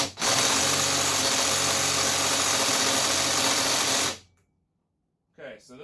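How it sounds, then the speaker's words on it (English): Electric impact wrench loosening the 5/8 blade bolt on a push mower, a loud continuous rattling hammer lasting about four seconds, then stopping, followed by a brief voice. "Go ahead and use our electric impact."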